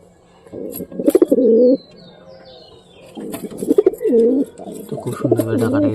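Homing pigeons coo close by, with three rolling, throaty coo phrases separated by short pauses and a few faint chirps in the background.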